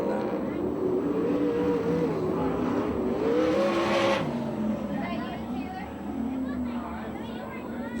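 USAC/CRA sprint cars roar across the finish line at Phoenix, Arizona, their engines loud with rising and falling pitch sweeps as they pass, under steady commentator talk.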